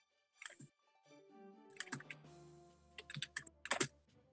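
Keyboard typing comes in a few quick bursts of key clicks, close and fairly quiet, separated by short pauses over a faint steady hum.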